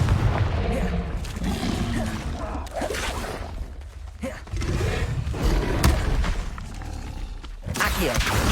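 The Confringo explosion spell in Hogwarts Legacy on PS5 gives loud booming blasts and crackling bursts over a roaring game soundscape, with short silent breaks between bursts.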